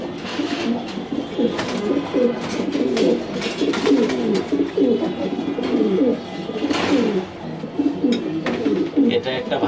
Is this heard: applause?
no